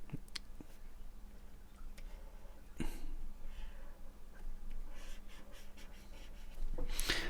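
Pen or pencil drawing on paper for a simple cartoon, soft close scratchy strokes and taps in an irregular rhythm, faint overall with a few sharper clicks.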